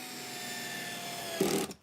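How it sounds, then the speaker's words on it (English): A Milwaukee M12 cordless drill whirs in a steady, fairly quiet run, then briefly surges and cuts out near the end, with no voices. "The drill I'm using is the Milwaukee M12 series drill."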